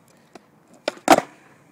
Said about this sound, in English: Now, if you want a higher ollie, you're going to have to get a great pop like this.